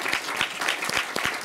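An audience applauds at a film festival Q&A for Italian cinema in Oslo, giving a dense, steady clatter of many hands clapping at once and filling the room throughout.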